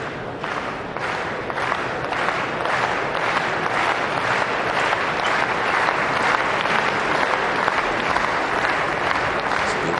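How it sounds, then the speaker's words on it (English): Crowd applause in a hall at a table tennis match between Marcos Freitas and Xu Xin at the 2017 German Open, a steady, dense wash of clapping that lasts throughout, with some faint voices mixed in. "So applause from the crowd,"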